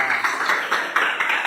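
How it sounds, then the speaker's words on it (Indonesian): Clapping from a small group in a classroom, a brief patter of uneven hand claps, close and moderately loud, with no talk over it. "tepuk tangan dulu buat Mbak Sabria."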